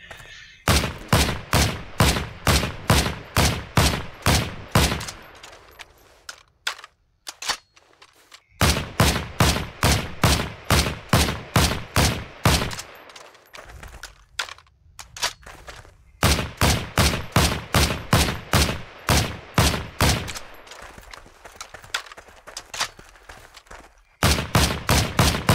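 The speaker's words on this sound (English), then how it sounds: "I will fire the G43." A G43 semi-automatic rifle fires in the WWII shooter Heroes & Generals, with rapid, evenly spaced shots in three long bursts separated by brief pauses and reload noises, loud and close with no talk.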